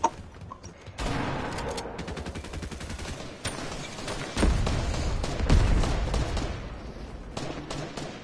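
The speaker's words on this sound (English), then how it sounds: "Is that you shooting?" Rapid bursts of automatic gunfire in a video game, a dense crackling fusillade that runs almost continuously with brief gaps and a few heavier volleys, loud and close.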